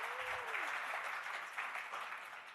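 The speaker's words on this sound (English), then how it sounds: "Give her a round of applause, everyone." Awards show audience applauding an honoree, a broad wash of clapping that fills the room steadily and begins to taper toward the end.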